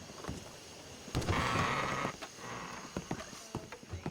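Horse hooves clip-clop in a ranch role-play video game, with a brief louder burst that may be a whinny, under quiet background sound.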